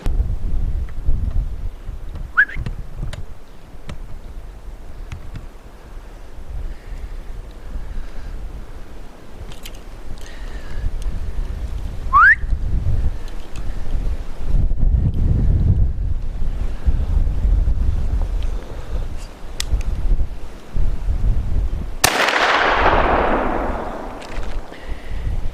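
Strong blizzard wind buffets the microphone during a hunting outing in whiteout conditions, a steady low roaring rumble throughout with gusty swells and a brief hissing rush near the end, no speech.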